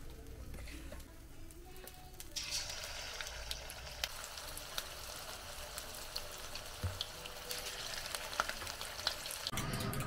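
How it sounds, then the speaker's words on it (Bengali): Chicken pieces coated in batter for chili chicken sizzle and crackle steadily in hot oil, a continuous close frying hiss with occasional pops, rising a little brighter partway through, with no voices. "চিলি চিকেন এখানে সব ফ্রাই হয়ে গেছে।"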